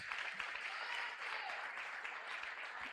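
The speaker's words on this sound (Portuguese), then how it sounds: "Aplaude agradecendo, irmãos" A church congregation at a family service applauds together in thanks, a steady, full wash of clapping from many hands that carries evenly for the whole few seconds.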